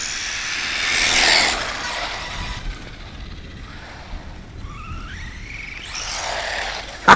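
A Redcat Blackout XBE Pro RC car running on a nearly dead battery, its small electric motor giving a thin whine that rises and falls in passes, louder early on and fainter in the middle.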